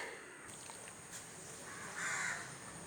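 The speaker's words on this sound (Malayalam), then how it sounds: "അതെ, കാക്ക വന്നിട്ടുണ്ട് കേട്ടോ." A crow caws a few times at a moderate distance over steady outdoor background noise, with one louder, harsher call near the end.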